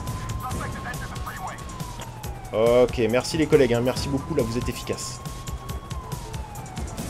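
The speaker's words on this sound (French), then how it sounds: "Je coupe la sirène" Police car siren in GTA 5 on a sheriff patrol, a steady wailing tone running under the whole stretch while someone talks over it in the middle.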